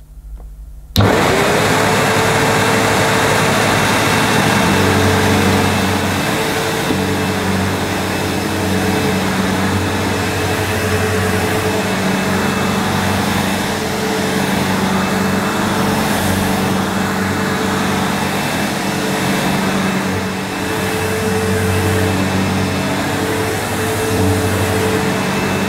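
A Sebo Ensign Stealth vacuum cleaner with a suspected brush roll fault switches on and runs with a loud, steady motor drone that holds throughout, with no talking.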